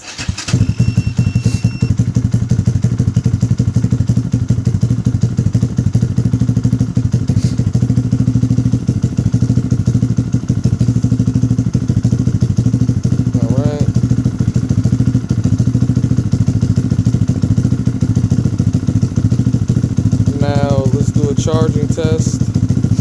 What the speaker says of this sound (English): I'm actually going to show you the crank test on it.